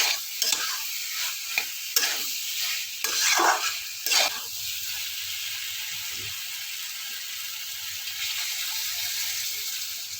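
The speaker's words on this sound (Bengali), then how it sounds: "ভালো করে মশলার সাথে আলু মিশিয়ে নেব" Fried potatoes are stirred into a cooked spice paste in a pan, with several brisk scraping strokes over a sizzle in the first few seconds before the pan settles into a quieter, steady hiss.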